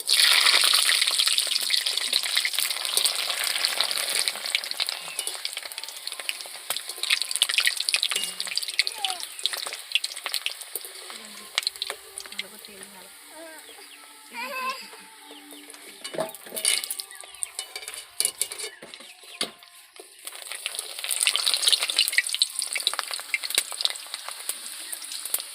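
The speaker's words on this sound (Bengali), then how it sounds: "তো এই তেলের মধ্যে আমরা পাঁপড়গুলো ভেজে নেব।" Papad crackles and sizzles steadily in hot oil in a home kitchen after a batch of pakoras, a loud continuous frying hiss with occasional utensil clinks, broken by brief lulls.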